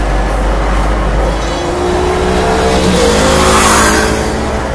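A Mahindra Thar diesel drives along winding roads in Kerala, its engine note loud and close, droning steadily and then climbing in pitch as it accelerates, with no talking.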